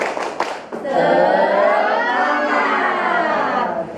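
An Indonesian group in an academic supervision session does a spirit clap: a few sharp claps up front, then a loud, sustained group shout from many voices close by.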